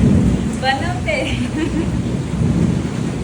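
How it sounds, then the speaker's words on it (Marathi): Steady rain hisses down continuously, with a few brief voices and chirps sounding faintly underneath. "पाऊस पडतोय"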